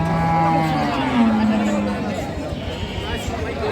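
Cattle at a busy livestock market low in a long mooing call near the start, over a steady murmur of crowd chatter and nearby talking.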